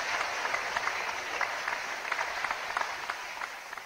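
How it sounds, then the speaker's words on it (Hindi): A crowd applauds at a ground-breaking puja ceremony during a chief minister's development event in Khargone, Madhya Pradesh, steady, moderately distant clapping from many people that continues evenly for several seconds without talk. "साथ दे रहे मल पटेल जी और आप सबकी भरपूर तालियों के बीच भूमि पूजन किया गया।"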